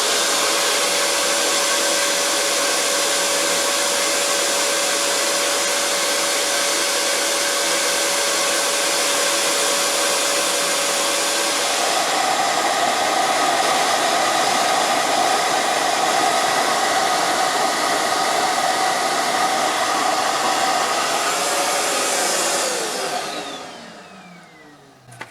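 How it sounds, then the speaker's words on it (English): A vacuum cleaner with its hose switched to blow drives air through a flowbench testing an engine cylinder's exhaust port. A steady, loud, unbroken roar runs alone for about 23 seconds, shifts slightly in tone midway, then spins down at the end. "I've changed the air hose on the vacuum cleaner to blow."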